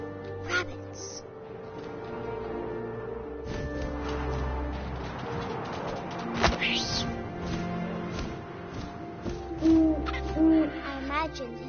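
An owl hoots in the video game What Remains of Edith Finch, deep repeated hoots among wind and game ambience, heard under a narrating voice.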